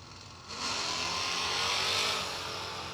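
Drag race cars, an old Cuda and a Fox body, launch at a street nationals event: after a quieter half second a loud engine roar swells and holds, broad and raspy, peaking near the middle before easing slightly.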